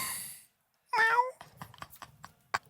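A person imitates a cat with one drawn-out, close meow, surrounded by short bursts of casual talk and clicks.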